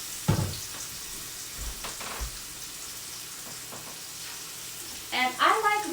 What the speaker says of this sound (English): I'm just getting my potatoes in the pan. Nice and hot